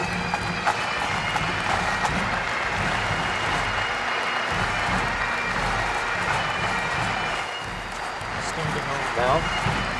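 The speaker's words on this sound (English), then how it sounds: "The band enters to applause, playing Scotland the Brave." Crowd applause at a Maine governor's inauguration ceremony as a bagpipe band enters playing, a dense continuous roar of clapping with voices and band sounds mixed beneath.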